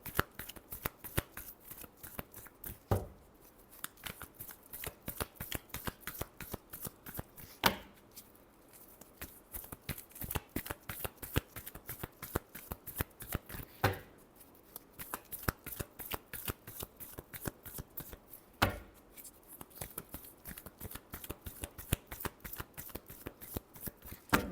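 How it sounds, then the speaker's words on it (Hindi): Tarot cards shuffled by hand, a long run of quick riffling clicks in steady bursts with brief pauses between rounds, close and clear with no talking. "Last shuffle."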